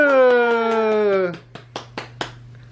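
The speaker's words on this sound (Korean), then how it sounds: "우와, 우와 박수!" Family members clap for a 15-month-old baby after a long, falling cheer-like vocal tone, then four separate sharp claps spaced evenly, close and fairly loud.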